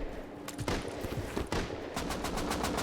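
Rapid bursts of AK rifle fire in the Rust survival game, loud and close, with sharp repeated cracks clustered into several volleys and a steady automatic stream near the end.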